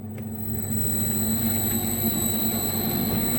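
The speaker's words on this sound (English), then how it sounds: "Now we start the mill." An industrial plant mill motor starts, giving a steady electric hum and a whining tone that swells slightly over a few seconds, loud and continuous with no speech.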